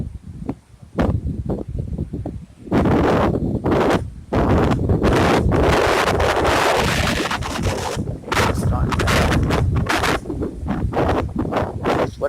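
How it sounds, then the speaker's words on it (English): Strong gusts of Tropical Storm Michael roar across the microphone in long, loud surges that build, ease briefly, and return, with a blustery broadband rush filling most of the stretch. "What I would call wind gust."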